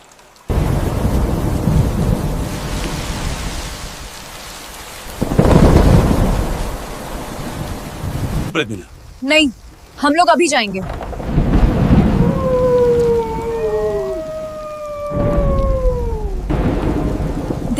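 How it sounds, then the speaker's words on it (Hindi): Heavy rain pours outside at night with loud cracks and rumbles of thunder, the steady downpour broken by a sharp burst midway; a few spoken words and a fluttering whine briefly rise over the storm. "बाहर बहुत बारिश हो रही है"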